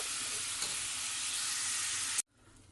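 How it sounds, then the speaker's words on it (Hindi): Steady, loud sizzling in a pan on a medium flame while chicken jalfrezi ingredients sauté, close and continuous with a light stir partway, then it cuts off abruptly near the end to quiet room tone. "इसको सिर्फ आपने हल्का सा सौते कर लेना है मीडियम आंच पे 1 मिनट के लिए"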